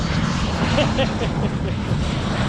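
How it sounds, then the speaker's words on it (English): A jet airplane lands at an airfield and uses reverse thrust, making a loud, steady broadband roar that fills the whole moment, with a voice talking over it. "Ooh, jet landing."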